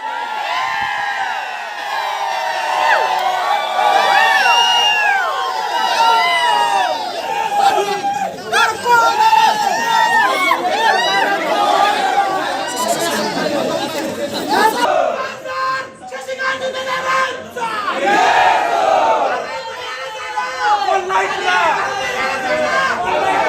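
A crowd of party supporters cheers, shouts and chatters loudly at a candidate's home in Koregaon, Satara, celebrating an election lead, with overlapping voices and whoops close by throughout.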